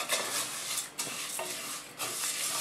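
Thin vermicelli being toasted in oil in a pan while it is stirred, with a steady soft sizzle, scraping stir strokes and brief breaks around one and two seconds.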